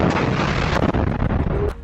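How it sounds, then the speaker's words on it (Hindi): A heavy blast from a Yasin 105 anti-tank RPG striking a tank roars up loud and close, with sharp cracks and rumbling debris following. "इस टैंक में रफा में Yasin 105 anti tank RPG fire किए जिसमें बहुत बड़ा धमाका होता है"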